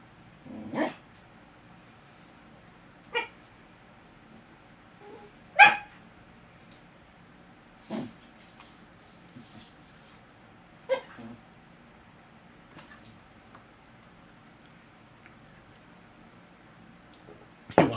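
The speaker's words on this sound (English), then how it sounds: "Oreo is just having himself a little barky fit over here" A pet dog named Oreo lets out a scattered fit of barks indoors, with sharp separate yips and barks spaced a few seconds apart, some louder than others, over a quiet background.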